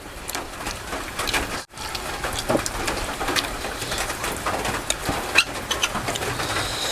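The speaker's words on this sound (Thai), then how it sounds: "ฝนตกปล่อยๆ พี่น้อง" Light rain falling steadily outdoors, a continuous soft patter of drops with a few sharper hits and faint bird calls in the background.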